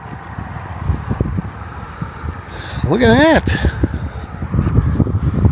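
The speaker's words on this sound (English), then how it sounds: "I apologize for the wind" Wind buffets the microphone outdoors on a rural Wisconsin back road by an old schoolhouse, a loud, gusty low rumble that swells and surges under someone talking.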